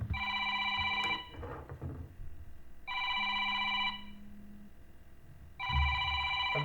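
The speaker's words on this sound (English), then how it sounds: "sorry about that phone" A mobile phone rings with a bright electronic ringtone in three repeated bursts, separated by brief pauses with faint rustling, fairly close and clear.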